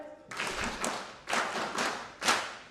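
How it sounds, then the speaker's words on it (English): An audience performs a rhythmic patriotic clap at a national service delivery survey report event: bursts of loud, synchronized claps in a steady pattern, with several sharp accented strikes spaced about a second apart. "Oh, the patriotic clap, please. One more time."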